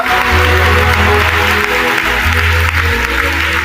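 An audience at a Telugu Christian sermon claps in a loud, continuous burst of applause that lasts the whole moment.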